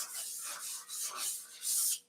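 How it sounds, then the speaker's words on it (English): Short rough scraping strokes of sandpaper on wood, close and fairly quiet, in an uneven back-and-forth rhythm. "finding stuff that ain't quite perfect and sanding her down"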